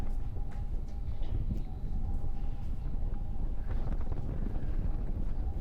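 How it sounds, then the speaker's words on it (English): A big gust of wind buffets the microphone at an outdoor high school boys soccer game, making a continuous low, rough rumble for several seconds. "Big gust of wind."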